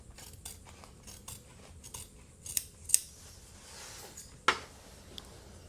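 Scissors snipping through fabric, a series of light, close cuts with a few sharper clicks of the blades, otherwise quiet.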